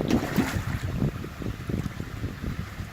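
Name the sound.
wind outdoors by a koi pond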